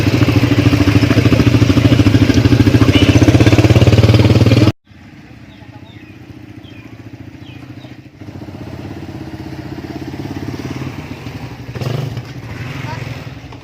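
A motorcycle rides along a road, its engine droning loudly and steadily before dropping abruptly to a quieter, rougher running hum with faint clatter.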